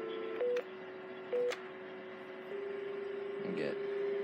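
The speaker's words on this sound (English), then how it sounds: "Then we can dial 81" Two short telephone keypad tones dialing 81 on a Panasonic phone system, each a brief beep over a steady faint dial tone, followed by the tone carrying on with a bit of handling noise.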